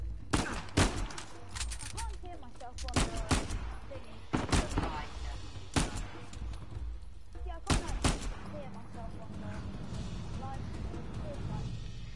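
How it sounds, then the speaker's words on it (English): Heavy gunfire in the Uncharted 4 video game, with dense bursts of loud shots and fusillades clustered through the scene, rapid volleys recurring every few seconds over a steady combat background, with a player's voice talking at times. "I'm under heavy fire here."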